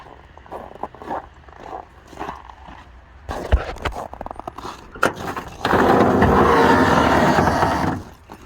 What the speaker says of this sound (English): Here's a cold start of the Bronco.